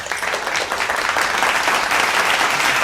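An audience at a watch party for a Zee TV UK show claps in sustained, dense applause, a steady wash of many hands that stays loud throughout with no speech over it.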